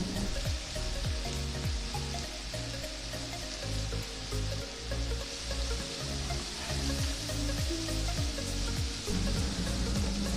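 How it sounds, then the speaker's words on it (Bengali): Spices and green peas sautéing in a pan for a vegetarian aloo paneer dalna, with steady close sizzling and frying broken by repeated stirring scrapes over a continuous bed of background music. "অল্প কিছু মটরশুঁটি দেব আবারও মশলা কষাবো"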